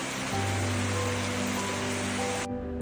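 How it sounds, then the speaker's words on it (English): Steady rain falling around a house in Sri Lanka, a dense continuous hiss of drops on surfaces with a low hum beneath, fairly loud and unbroken until it thins abruptly near the end. "I love the rain in Sri Lanka. Shown here sparkling and dancing around our house"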